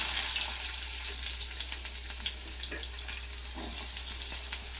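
Onions go into hot oil with cumin and mustard seeds, raising a continuous close sizzle with faint scraping, and a low steady hum runs underneath.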